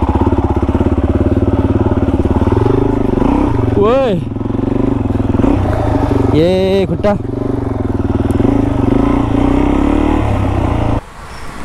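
A dirt bike motorcycle engine idles and hums steadily close by, with brief revving swells, while people talk loudly over it before it cuts off near the end.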